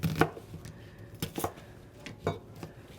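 An onion is cut into quarters on a cutting board, with three sharp knife chops spaced about a second apart. They land close and distinct against a quiet kitchen background.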